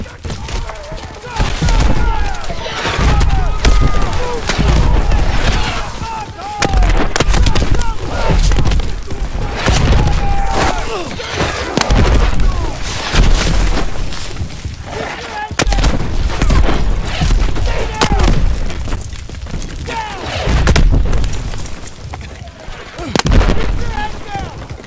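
Incoming artillery shells explode in a Call of Duty WWII Battle of the Bulge scene, with repeated heavy booms, gunfire and rumbling blasts throughout, loud and dense, and voices shouting over the chaos.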